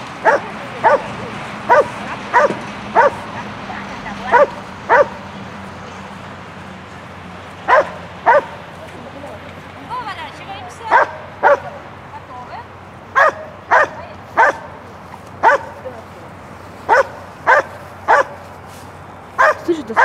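Repeated sharp barks and yips from a dog at a Smart Dog search trial, coming in a steady series of short bursts throughout, with people talking in the background.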